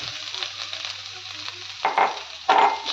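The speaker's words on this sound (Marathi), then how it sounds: "थोडस हे खवलेलं खोबरं आहे ते थोडस हलकस भाजून घेणार आहोत" Grated coconut roasts in ghee in a pan, a steady close sizzle with brief louder bursts of stirring and frying near the end, no talking.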